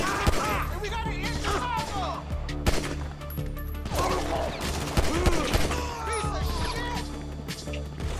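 Rapid gunfire cracks and bursts through a chaotic shootout in the video game GTA 5, with impacts and crashes, while voices talk over the action.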